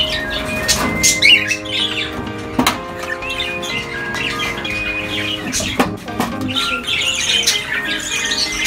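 Cockatiels in a mini aviary squawk and chirp repeatedly, sharp close calls rising over a busy, continuous background of bird chatter and rustling.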